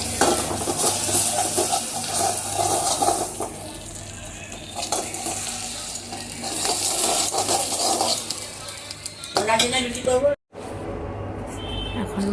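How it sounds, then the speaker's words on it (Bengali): Spices, including kasuri methi and chilli powder, sizzling in hot butter in a pan, a steady crackling fry with stirring and clinks of a utensil against the pan, ending with a brief cut to near silence. "চলো ফট করে ফোড়নটা দিয়ে দিই।"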